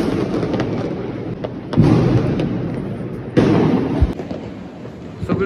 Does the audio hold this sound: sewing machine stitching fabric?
no